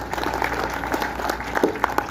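An audience at a gathering breaks into brief, moderately loud applause, a dense patter of clapping with faint voices mixed in.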